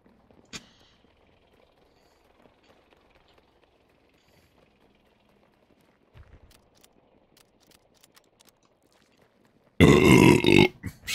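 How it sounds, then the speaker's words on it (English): After eating Taco Bell, a person lets out a loud, raspy burp lasting about a second, close to the microphone, following a long stretch of near silence broken by faint clicks and a brief earlier thump. "Excuse me, man. I got burps."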